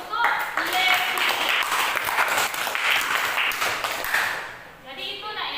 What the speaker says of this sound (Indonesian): berikan aplaus untuk Levi